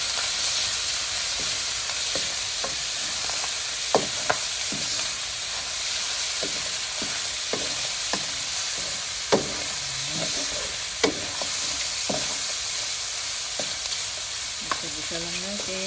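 Chopped onion and tomato sautéing in a hot pan, a steady loud sizzle with frequent stirring scrapes and clicks of a utensil throughout.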